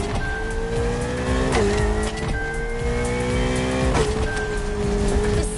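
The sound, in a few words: drifting car in The Crew Motorfest video game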